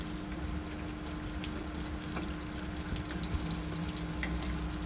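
Puris frying in a pan of oil over a low gas flame, giving a steady soft sizzle that continues throughout at moderate, even loudness with no voices.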